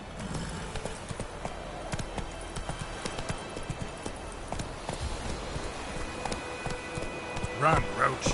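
Horse galloping in a video game, rapid rhythmic hoofbeat clip-clop running steadily under game ambience, with a brief louder sound near the end and a voice speaking.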